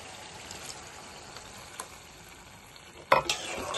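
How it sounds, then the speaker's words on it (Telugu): Tamarind juice goes into a ridge gourd curry and gets stirred in, a soft steady sizzle and gentle scraping, with a sharper clatter of the spoon against the pan near the end. "పోసుకొని ఇలా కలుపుకొని మూత పెట్టి కూర దగ్గరికి అయ్యే వరకు ఉడికించుకుందాం."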